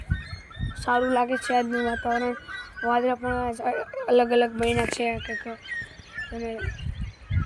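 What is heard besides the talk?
birds chirping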